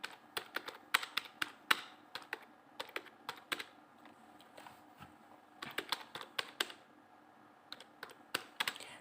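Typing on a computer keyboard to enter an address into an online application form, irregular bursts of quick, close keystrokes with short pauses between words, no talking.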